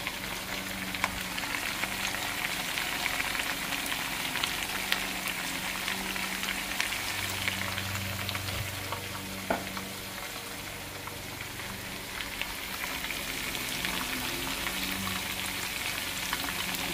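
Garlic and green chilies fry in oil in a pan, making a steady, fairly loud sizzle with a crackly hiss that runs unbroken for the whole stretch.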